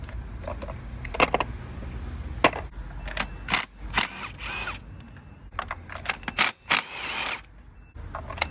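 A ratchet fits new Bosch spark plugs into an engine, giving bursts of quick clicking and turning mixed with metallic clatter, close and fairly faint. There is no speech.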